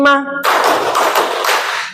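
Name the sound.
group clapping hands in counted claps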